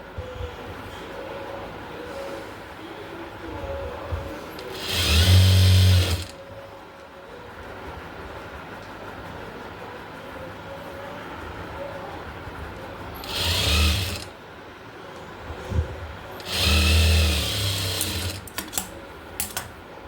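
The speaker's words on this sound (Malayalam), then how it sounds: "ഇനി ഇതിൻ്റെ താഴ്വശം നമുക്ക് സ്റ്റിച്ച് ചെയ്തെടുക്കാം." Sewing machine stitching the hem of a frock nighty runs in three loud whirring bursts, about a second or so each, separated by quieter gaps with faint handling noise.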